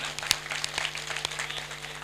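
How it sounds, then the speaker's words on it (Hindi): A crowd at a Hindi comic poetry gathering claps, with scattered distinct hand claps over a steady hum, moderately faint and brief. "जोरदार तालियों के साथ"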